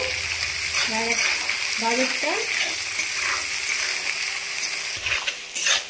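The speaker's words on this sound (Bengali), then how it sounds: "গাজরটা একটু নাড়াচাড়া করে ভেজে নিয়েছি হালকা করে" Chopped carrots frying in oil in a pan for fried rice, a steady sizzle with scraping stirs and a few spoon clinks, loud and close, with no talk over it.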